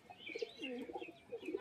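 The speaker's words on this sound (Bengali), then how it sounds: "এই যে দেখুন পুরো বন্ধ দুমের পায়রা" Pigeons coo in a loft, a few soft murmuring calls close by with light chirps mixed in, and no talking.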